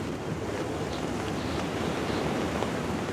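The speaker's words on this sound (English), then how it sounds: "As the hours go by, the ocean and the wind turn nastier." Ocean waves and gusting wind at sea off Cape Verde, a steady broadband roar of surf and wind buffeting with no voices.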